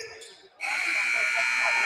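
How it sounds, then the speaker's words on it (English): A basketball game-ending buzzer blares loud and sustained after a brief lull, with crowd noise just before it. "Shot good at the buzzer."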